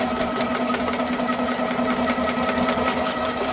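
A motorized drain snake runs slowly forward in a drain, giving a steady buzzing motor hum with a rattling, vibrating texture, close and continuous with no talk.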